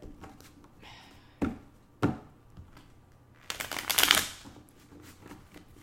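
Tarot cards are shuffled by hand in a quiet room: a few sharp taps and snaps, then a longer riffling burst of rapid card flutter, close and fairly soft, with no talking.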